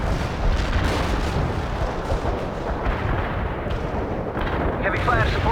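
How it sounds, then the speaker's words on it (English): An artillery barrage lands in the video game World in Conflict, a continuous rumbling roar of overlapping blasts with dense low booms, and a radio voice breaks in faintly near the end. "Artillery strike on the way."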